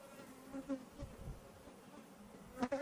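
Honeybees at an open beehive during hive inspection hum faintly in a low, continuous buzz, with a few soft knocks and handling noises over it.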